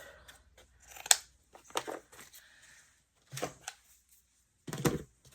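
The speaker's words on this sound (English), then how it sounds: "I'm just going to cut up a little few pieces of this drywall tape" Scissors snip through drywall tape at an art journal table, giving several crisp, close cuts with short pauses between them and a final double snip.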